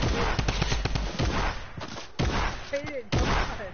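Gunfire in a shooter video game, rapid bursts of sharp shots and thuds in quick clusters, then a pause and renewed firing, mixed with a voice talking over it.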